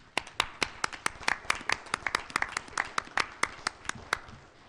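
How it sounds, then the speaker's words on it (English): Applause at a school board meeting: a sparse, uneven round of clapping from a small group in a room, quite faint, with separate sharp claps rather than a dense roar. "So I think that deserves a round of applause."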